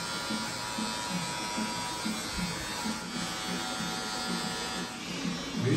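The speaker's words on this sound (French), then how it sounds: "je vais commencer avec la Wall Legend et je vais faire ma ligne de base comme d'habitude" Wahl Legend hair clipper cutting a base line during a haircut, a steady close electric buzz running throughout with slight changes in pitch as it moves across the hair.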